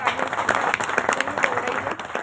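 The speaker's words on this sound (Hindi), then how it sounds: "तालियों।" A crowd applauds the chairperson of a women's commission at a welcome event in Rewari, brisk clapping from many hands that is close and lively throughout.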